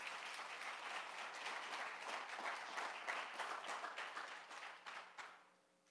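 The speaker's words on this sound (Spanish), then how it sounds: "Denle aplauso bien fuerte al Señor." A congregation in church applauding, dense steady clapping from many people that holds for several seconds and then tapers off quickly at the end.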